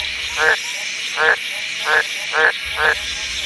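Green tree frogs croak among reeds in crocodile country: five loud, close calls spaced at an even rhythm, each a short raspy burst, with quiet between them.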